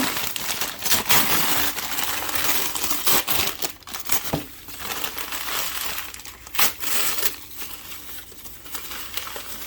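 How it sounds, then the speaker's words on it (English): Coco coir paper and perlite paper are shredded by hand for a worm bin, giving close, irregular crinkling and tearing with sharp rips and rustles throughout. "go ahead and shred up your cocoa core paper and your perlite paper"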